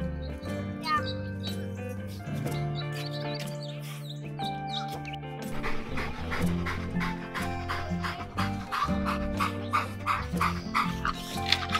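Dogs bark in short, irregular bursts at an outdoor dog park, mixed with a steady background and people talking.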